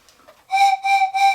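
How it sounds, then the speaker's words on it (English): A small homemade whistle with its slide end plugged gives three short, clear, evenly spaced blasts, moderately loud and steady in pitch. "And it's a great sounding little whistle."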